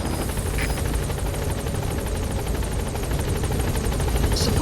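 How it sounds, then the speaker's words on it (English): Rotor blades of the Pequod, the support helicopter in Metal Gear Solid 5: The Phantom Pain, beat in a fast, even rhythm over a constant turbine drone as the aircraft holds near and loud at the landing zone, with no voices. "Support helicopter has arrived."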